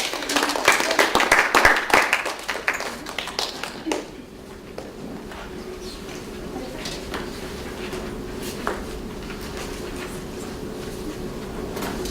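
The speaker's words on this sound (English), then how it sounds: "Let's give a round of applause." A round of applause from the audience at a hospitality pitch competition for a presenting nonprofit team, dense clapping for about four seconds that then fades into a quiet room with a faint steady hum.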